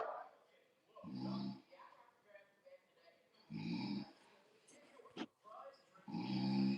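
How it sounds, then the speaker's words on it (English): A dog snores in slow, rumbling cycles, three loud drawn-out snores separated by quieter breathing and a short snort. "Yes, Zay, he snore."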